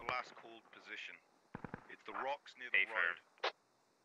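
Gunfire in the tactical shooter Squad crackles in several sharp bursts, including a quick cluster of shots around the middle, mixed with radio-style voices talking throughout.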